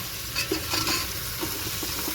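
Tomatoes with ginger and garlic sautéing in a pan for biryani, a steady sizzle broken by a few scraping stirs of the spoon.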